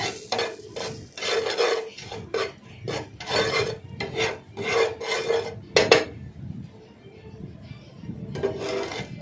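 A spice mix with turmeric and salt is stirred and fried in a pan for a dal puri filling, giving close, repeated scraping and rasping strokes in an uneven rhythm with a faint sizzle and no talking.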